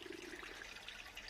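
Air bubbling steadily through a small koi pond filter, a continuous close gurgling and trickling wash of water with no pauses or voices.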